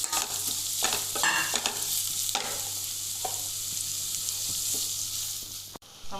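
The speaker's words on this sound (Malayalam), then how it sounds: "നമ്മൾ ഉള്ളികളെല്ലാം ഇട്ട് ഇളക്കി നല്ല ഒന്ന് പാകത്തിന് മുരിഞ്ഞ് കഴിയുമ്പോൾ മസാലപ്പൊടികൾ ഇടണം." Onions with curry leaves being stirred and sautéed in a pan, a dense continuous sizzle with scraping spatula strokes throughout, close and fairly loud, with a brief dip just before the end.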